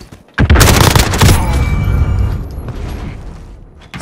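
A stun grenade goes off in Call of Duty Modern Warfare with a sharp, loud bang and harsh crackling burst, followed by a ringing, decaying tail that fades over a few seconds.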